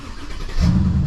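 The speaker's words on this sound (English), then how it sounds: "start the car" A Mercedes CLS with air suspension cranks and catches, its engine settling into a loud, steady idle rumble up close after a short stretch of lighter mechanical noise.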